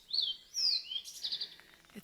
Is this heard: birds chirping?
yes